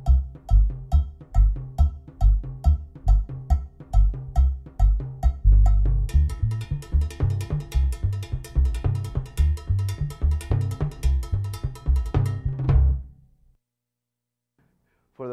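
Conga tumbao patterns joined by timbales lay down a steady, dense Latin groove of rapid hand-drum strokes and bright metallic accents, growing busier midway before stopping abruptly near the end, followed by silence.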